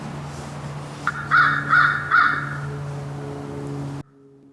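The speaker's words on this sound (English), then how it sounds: "I hear a bird up there." A crow calls outdoors with three loud, harsh caws in quick succession, standing out clearly over a steady low background hum before the sound cuts off.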